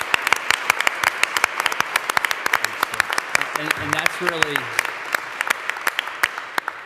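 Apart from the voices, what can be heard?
audience applause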